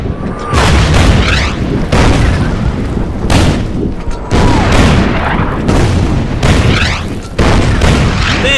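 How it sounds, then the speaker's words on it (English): Heavy artillery fire in the strategy game Order of Battle on the Burma Road, a series of deep booming blasts roughly every second or so, loud and close with rumbling tails. "they have an amazing amount of artillery."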